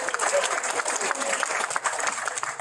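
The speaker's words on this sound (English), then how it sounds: "Let's give him a round of applause." Audience at a proclamation signing ceremony for Guam School Counseling Week breaks into applause, a steady burst of clapping from a room of people, close and fairly loud.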